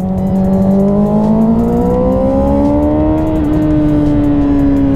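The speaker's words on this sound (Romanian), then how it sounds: "Ce compresie are la motor, ce frână de motor are." A 2006 Yamaha R6 sport motorcycle engine revs up, its pitch climbing steadily and then holding high, loud and close.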